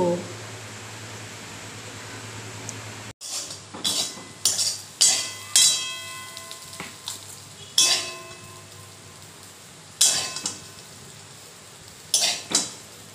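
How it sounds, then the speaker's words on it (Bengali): Potatoes and yardlong beans frying in a little oil, with a soft, continuous sizzle and a series of sharp spatula scrapes and clanks against the pan every second or two, heard up close after a brief quiet start. "এই যে আলু দিয়ে বরবটি দিয়ে ভাজা, হালকা তেলে ভাজা করছি"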